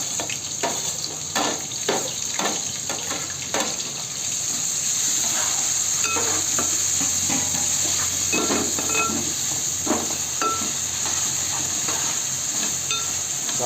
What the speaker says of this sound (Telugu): ఆనియన్ టమాటా వేసుకొని పచ్చిమిర్చి కొద్దిగా డీప్ ఫ్రై కూడా కాదు, నార్మల్గా ఫ్రై చేసుకోవాలి